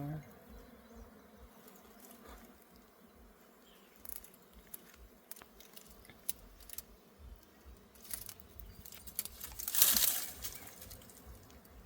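Honey bees from a wild hive in thorny scrub buzz faintly around a natural honey hunt, a soft continuous drone with scattered rustles and a louder burst near the end.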